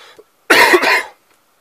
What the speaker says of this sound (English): Gotta love coughs.